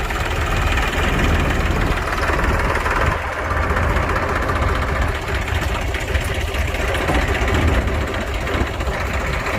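A modern groundnut thresher hitched behind a tractor trolley drones with a steady, loud engine rumble while its filled hopper pours peanuts down into a cart, the machine noise constant and close throughout with no talk.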